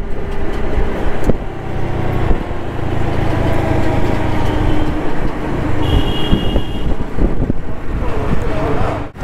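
Road traffic in Varanasi, heard while riding a scooter across a bridge over the Varuna river into the city: a loud, continuous roar of engines and wind, with a short horn-like tone partway through.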